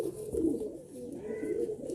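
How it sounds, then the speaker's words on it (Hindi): A pigeon of a high-flying breed, held in the hand, gives a low, continuous rolling coo, close and fairly soft, with no talk over it. "ये कबूतर हाथ में टिकता भी नहीं है, बहुत फुर्तील कबूतर है।"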